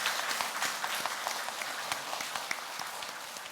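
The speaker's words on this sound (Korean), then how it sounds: "우리 서로 박수 한번 하겠습니다." A church congregation claps during a Sunday service, a soft, somewhat distant patter of many hands that slowly thins out, with no speech over it.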